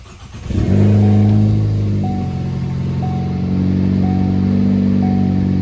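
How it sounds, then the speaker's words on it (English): A car engine fitted with a new Turbosmart blow-off valve cranks and fires up, then settles into a loud, steady idle with a faint high whine throughout. "first start up with the new blow-off valve"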